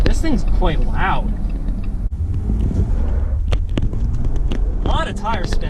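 A 2020 Jeep Gladiator spins its tires, a loud, rough roar of engine and tire noise running steadily throughout, with someone talking over it at the start and end.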